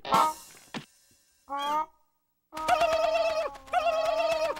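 Loud, close cartoon turkey gobbles: a short call, then two long rattling gobbles with a brief pause between them, no talking.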